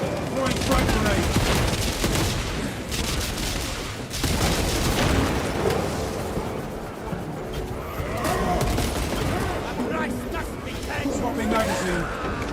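Rapid gunfire and a heavy blast from a frag grenade ring out in the Warhammer 40k Space Marine video game, dense and continuous combat noise with bursts and booms, a voice talking over the action.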